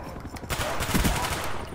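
Rapid gunfire bursts ring out in Call of Duty Black Ops multiplayer on the Array map, a mix of close automatic fire and sharp shots over a busy game background.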